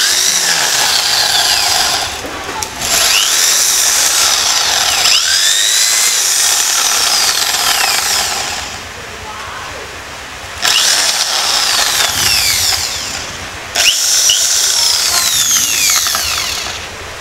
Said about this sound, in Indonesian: Di sini saya menggunakan bor beton ukuran 10